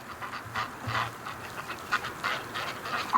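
Ducks quack and chatter outdoors in winter, where snow lies on the ground and open water has formed. The calls are scattered, overlapping and moderately distant, set over a steady background hiss.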